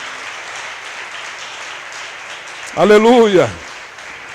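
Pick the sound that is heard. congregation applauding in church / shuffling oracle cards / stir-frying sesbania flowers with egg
congregation applauding in church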